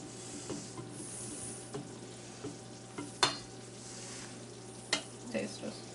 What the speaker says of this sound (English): continue mixing.